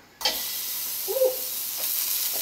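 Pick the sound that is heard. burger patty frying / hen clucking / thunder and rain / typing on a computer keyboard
burger patty frying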